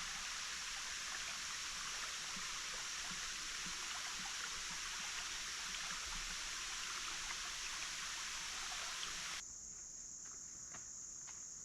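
Water rushes steadily over a waterfall and along a stream in Red River Gorge, Kentucky, a continuous hiss that drops sharply in level near the end while faint insect chirps continue.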